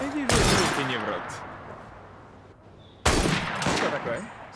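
Two loud rifle shots ring out about three seconds apart in Assassin's Creed Syndicate, each a sharp crack followed by a ringing, echoing decay, with a voice talking briefly between them.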